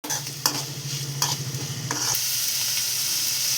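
Onions sautéing in a hot pan for a Malayalam vegetable thoran, spatula scrapes and knocks over a low hum, then a steady close sizzle that swells and holds.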